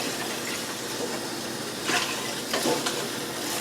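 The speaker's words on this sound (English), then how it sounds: "Going to simmer for 5 minutes." Seaweed soup simmering in a pot over lowered heat, a constant broad sizzling hiss with a few soft louder stirring or bubbling swells partway through.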